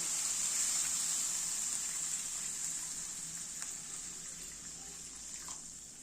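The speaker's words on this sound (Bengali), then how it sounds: "আমি অ্যাড করছি জল।" Water poured into a cooking pot while making Lung Fung soup, a steady close hissing splash that runs the whole time and slowly fades.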